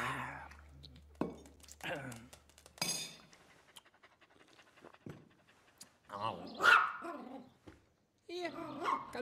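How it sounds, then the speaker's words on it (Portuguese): A small dog barks and pants in several short, sharp bursts, mixed with whimpers and breathy panting. The sounds are moderately close and come and go with gaps between them. "Cadelinha da madame."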